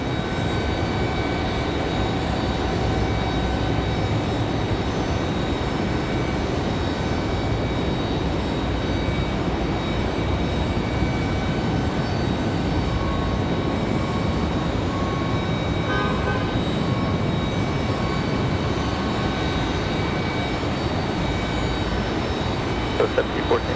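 A Republic Airways jet departs Raleigh-Durham International Airport on a windy day, making a continuous broad roar that holds steady and loud from start to finish.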